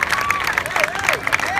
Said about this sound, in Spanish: un fuerte aplauso para el niño esta noche